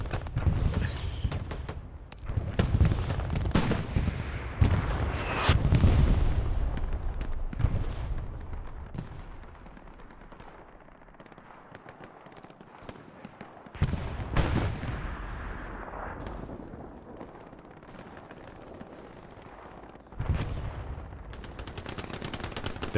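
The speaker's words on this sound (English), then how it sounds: "Took a couple shots there, it sounds like." Gunfire in the World War II shooter Hell Let Loose during a large competitive match on the Smolensk map, with dense bursts of rifle and machine-gun shots, near and distant, crackling throughout alongside heavy rumbling explosions.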